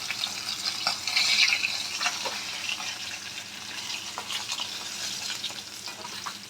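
Rui fish pieces frying in hot oil with a steady, dense sizzle throughout, close and moderately loud, with occasional spatters and scraping touches over the crackle.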